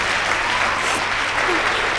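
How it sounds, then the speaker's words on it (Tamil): Loud, dense audience applause at a Tamil public speech event fills the short stretch steadily, with no pause and no talk over it. "இந்த பலத்த கைத்தட்டலோடு நீங்க சொல்வதை போல"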